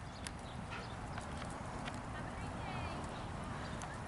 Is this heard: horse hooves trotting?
yes